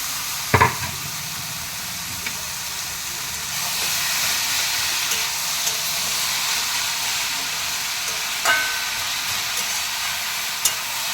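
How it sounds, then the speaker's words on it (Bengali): Greens fry in hot mustard oil with dried chilli and cumin, giving a steady close sizzle and hiss with a few sharp clinks of a stirring utensil. "এই যে পাঁচ মিনিট এরকম ভেজে নামিয়ে নেব"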